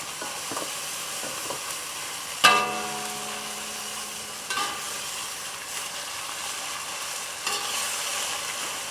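Freshwater prawns and midin fern stir-fried in a wok give a steady sizzle and hiss, broken by a few sharp scrapes and clanks of the spatula against the pan, close up and with no voices.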